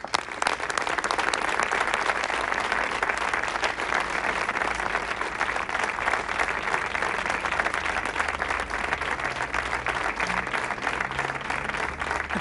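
Sustained, dense applause from a crowd fills the whole stretch, steady and loud with no break, the clapping merging into an even roar.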